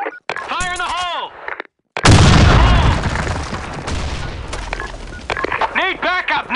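A grenade blows up in a Counter-Strike match with a sudden loud boom and a decaying rumble. Short in-game radio voice lines come just before and after it.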